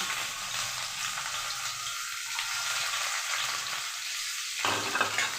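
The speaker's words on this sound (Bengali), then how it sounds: "ভাজা ভাজা হয়ে যাওয়ার পর আমি রসুন দিয়ে দিচ্ছি।" Garlic sizzles in hot oil with dried red chilies and five-spice for a dhaba-style dal tarka, a steady close hiss with slight swells and no talking.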